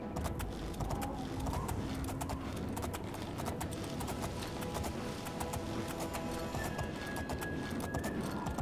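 Horse hooves clip-clopping at a steady gallop in the video game Oblivion, a continuous rhythmic drumming that runs the whole stretch alongside creaking, mechanical game ambience.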